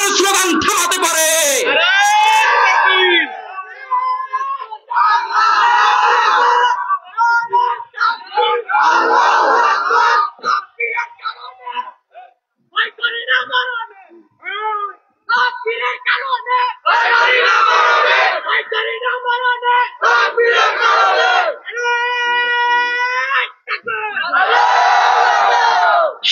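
A large crowd at an Islamic religious gathering chants the takbir slogan Allahu Akbar in loud call-and-response bursts, with shouted lines and roaring mass replies filling most of the stretch.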